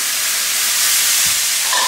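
Tomatoes and zucchini sizzling in hot olive oil in a pan, a steady loud steamy hiss throughout, close with no talk.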